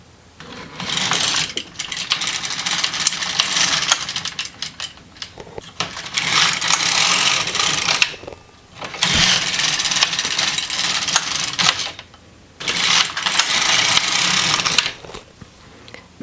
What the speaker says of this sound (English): thread it through your carriage, and knit 4 rows